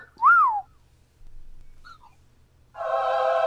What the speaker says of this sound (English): Here, choo-choo train.